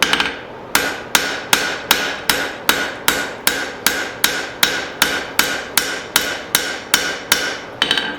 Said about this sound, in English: messing around with a hammer that I don't use very often